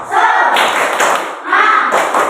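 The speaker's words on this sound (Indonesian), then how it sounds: "Tepuk semangat." A school class performs a rhythmic spirit clap, tepuk semangat, loud close bursts of many hands clapping together in a patterned rhythm, with voices mixed in.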